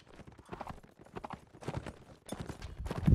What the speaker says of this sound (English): Tyrion picks up the heavy horse.